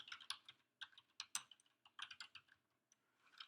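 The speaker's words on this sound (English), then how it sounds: "I gotta type on another computer here." Bursts of keystrokes on a computer keyboard, irregular clusters of clicks with short pauses between, close and fairly quiet, with no talking.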